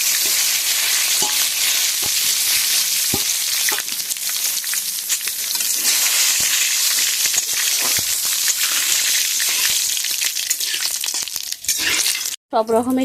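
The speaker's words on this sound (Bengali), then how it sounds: "ফোড়নটা আমার লাল লাল করে ভাজা হয়ে গেছে" Panch phoron, bay leaf and dried red chillies fry together in white cooking oil, making a dense, continuous close-up sizzle. Stirring scrapes and clicks break through it, and there is a brief pause near the end.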